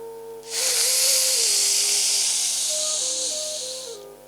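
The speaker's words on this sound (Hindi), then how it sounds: "श्वास लेने पर सी सी की आवाज उत्पन्न होगी।" A person draws a long, steady hissing breath in through bared teeth during sitkari pranayama, a breathing exercise; the airy hiss is close and loud and lasts about three and a half seconds, with a quiet tonal hum underneath.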